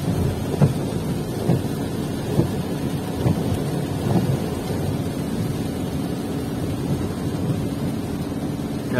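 Rain falling along a toll road with several low rumbles of thunder spaced a second or so apart, then a steady wet wash of rain continuing, no voices.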